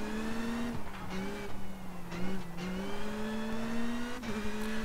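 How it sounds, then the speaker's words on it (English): A Toyota Yaris WRC rally car engine in the video game WRC Generations drones at steady revs, with brief dips and rises as it shifts gears, a continuous mechanical hum heard from inside. "While the WRC Yaris here actually sounds kinda decent."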